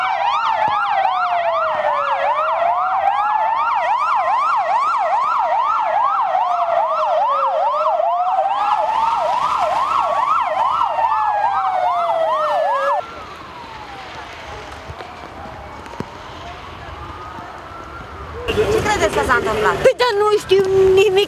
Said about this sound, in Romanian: sirenele autovehiculelor de intervenție au speriat câțiva trecători